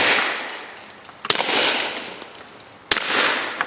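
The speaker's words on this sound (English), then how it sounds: "This is a fairly quiet suppressor." A pistol fitted with a fairly quiet suppressor fires two sharp, muffled shots a couple of seconds apart outdoors, each followed by a hissing decay and faint clinks.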